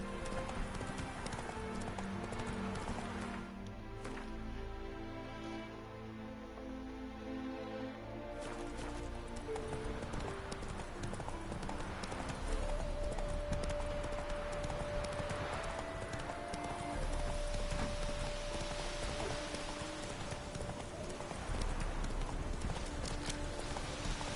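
Roach, the horse in The Witcher 3, gallops with a steady rapid clip-clop of hooves and an occasional whinny, set against continuous game music and ambience.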